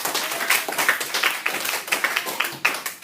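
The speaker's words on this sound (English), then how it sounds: "Give yourselves a round of applause" Classroom of children clapping together in a steady, fairly dense round of applause, moderately loud and close, with scattered sharper claps standing out through the three seconds.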